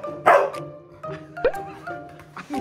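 A retriever barks in a few sharp, loud bursts close by, with shorter yips and whimpery notes between them and no talk over the barking.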